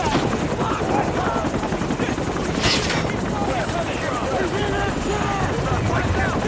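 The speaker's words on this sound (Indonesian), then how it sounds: "mereka tidak mendengar perkataan Ishak karena terhalang oleh suara helikopter" A military helicopter on a battlefield sends out a loud, continuous roar of rotor and engine that fills the whole stretch, with a brief sharp crack partway through.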